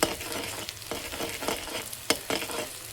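An egg mixture with spring onion (peyaj koli) sizzles in a frying pan while a utensil stirs it, leaving repeated scraping strokes over a continuous crackle.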